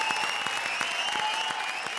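Steady applause from a comedy show studio audience welcoming a singer, a brief even burst of clapping beneath bright sustained music tones.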